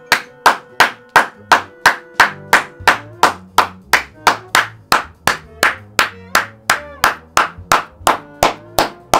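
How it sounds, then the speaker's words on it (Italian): Loud, sharp hand claps, one person clapping alone at close range in a steady rhythm of about two to three claps per second, each crack ringing briefly into the room, with a faint low hum underneath. "mi facciamo un applauso tipo Felipe"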